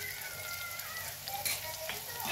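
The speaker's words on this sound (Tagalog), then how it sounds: "Gisa-gisa muna tayo" Ingredients sauté in a frying pan while cooking chicken adobo and sayote, a close, continuous sizzle with scattered crackles and pops at a soft level.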